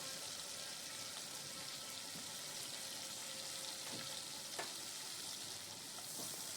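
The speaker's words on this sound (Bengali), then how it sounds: "পেঁয়াজটা যখন ভাজা হয়ে যাবে খুব লাল লাল করে ভাজার দরকার নেই" Chopped onion frying in a pan of oil for a spicy Bengali ridge gourd, potato and prawn curry gives a steady, soft, even sizzle that carries on throughout, with a few faint stirring taps and no talking.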